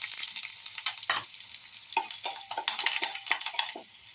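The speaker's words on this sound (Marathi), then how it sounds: "हिरव्या मिरच्या टाकूया आणि त्यासोबत कढीपत्ता पण टाकूया." Green chillies and curry leaves hit hot tempering oil with asafoetida in a pan after the gas is turned off, giving close, quiet sizzling in uneven bursts alongside scraping stirs and light clinks of a utensil. No voices.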